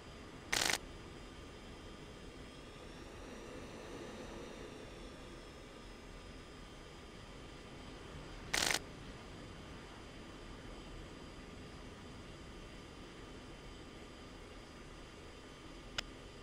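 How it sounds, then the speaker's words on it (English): An F-16C Block 40 jet rolls for takeoff on runway 26 in the Falcon BMS flight simulator's Balkans theater: a steady, fairly quiet engine roar with a faint rising whine, broken by two short, sharp clicks. "Mudhen 4, Wayne 220, at 1 knots, runway 26,"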